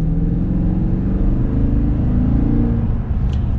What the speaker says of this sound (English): Now we're gonna get our little acceleration with the Tundra.